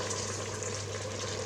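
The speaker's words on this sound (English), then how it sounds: "And I just fill this up with some extra water." Water pours steadily into a big pot of red cabbage cooking sweet and sour, a continuous close rushing splash with a low hum beneath it.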